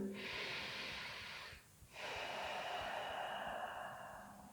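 Slow, deep breathing held during a yoga stretch, close and airy: one long drawn breath, a short gap, then another long, steady breath trailing off.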